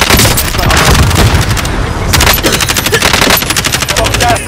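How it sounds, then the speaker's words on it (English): Sustained automatic weapon fire in Call of Duty: Modern Warfare, loud and close, with rapid, densely packed bursts that run almost continuously, briefly dipping once before resuming at full intensity. "Receiving hostile fire!"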